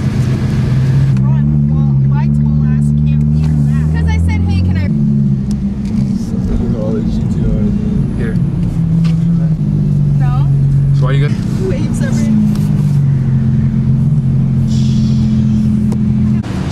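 A group of Nissan GT-R cars pulls out and drives off, a loud continuous engine rumble with shifting pitch as the engines rev and settle, and voices faintly over the drone.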